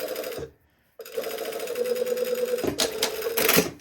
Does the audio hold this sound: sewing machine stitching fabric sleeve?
yes